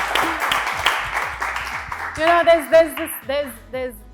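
An audience applauds a performance at an actors' panel discussion: a burst of scattered clapping that soon gives way to people talking.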